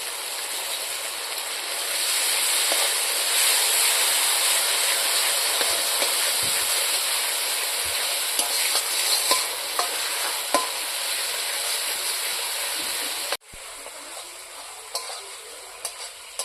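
Cumin paste and ginger-garlic paste frying in oil give off a loud, even sizzle stirred with occasional light scrapes, lasting about thirteen seconds before suddenly dropping to a quieter simmer.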